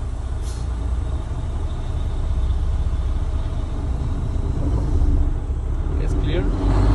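A truck pulling a trailer in a rest area rolls slowly forward at about 5 mph for a brake test, giving a low, steady engine rumble with a brief hiss near the end while someone talks.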